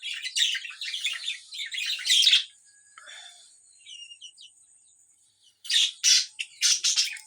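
Pet birds, a male feeding a female near their nesting pot, give rapid chattering chirps and squawks in two close bursts separated by a quieter stretch of thin calls.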